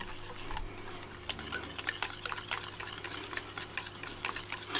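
Egg yolks being stirred into melted chocolate and cream in a bowl, with a steady run of light utensil taps and scrapes against the dish, close and fairly quiet.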